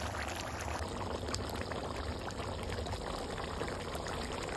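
Sour yogurt, three tablespoons, pours into spiced beef for a shahi rezala, a soft continuous wet trickle and slop, faint and close, with no voices over it.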